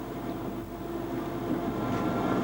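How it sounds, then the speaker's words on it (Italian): A train on the Pontebbana railway gathers speed after crossing the Fella river over the long Ponte di Muro, a steady loud rumble of wheels and motor building slightly over time, with no talk. "mentre il treno riprende velocità."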